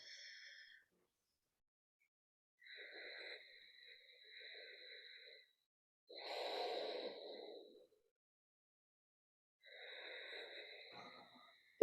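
Slow, deliberate breaths during a seated chair-yoga side stretch, with several soft airy inhales and exhales separated by silent pauses. One fuller breath sounds in the middle.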